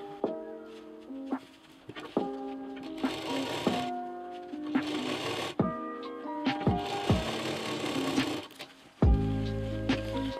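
A sewing machine stitches a zipper and piping onto a square bag. Close, loud bursts of stitching are broken by short pauses and sharp mechanical knocks, and a heavy thud comes near the end.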